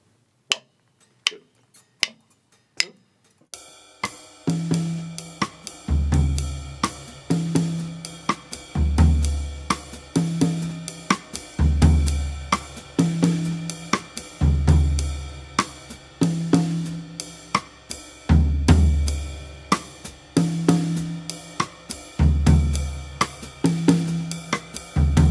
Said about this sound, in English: so the bell pattern with your right hand and this timbale pattern with your left hand